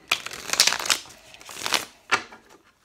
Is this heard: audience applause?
no